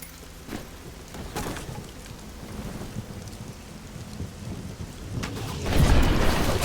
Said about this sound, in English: I really like the rain sound in the game